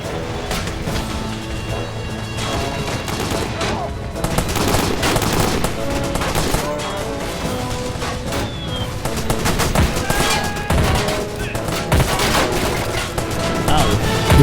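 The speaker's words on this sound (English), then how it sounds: "Wow, this machine gun." Continuous dense machine gun fire with booms and crashes in a toy war battle between infantry and mechanized armor, loud and chaotic throughout.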